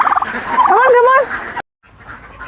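Turkeys in a poultry flock at feeding time let out a loud burst of warbling gobbles close by, then fall briefly silent before quieter flock noise resumes.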